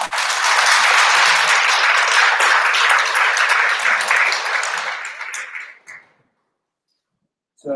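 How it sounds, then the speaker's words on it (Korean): Audience at a parliamentary election candidates' policy debate in Paju applauds the three candidates, loud sustained clapping that tapers off and stops, followed by silence. "이 세 분 후보께 큰 박수 한번 부탁드립니다"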